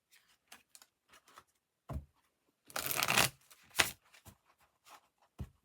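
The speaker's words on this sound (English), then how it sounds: "They just told me to shuffle once." Brisk riffling and shuffling of a tarot deck, a few short bursts with scattered light taps and handling sounds between them, close up.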